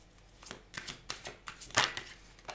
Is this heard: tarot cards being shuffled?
yes